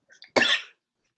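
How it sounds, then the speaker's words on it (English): A single short, sharp cough, close and fairly loud, preceded by a couple of faint breaths, then silence. "I'm going to cough"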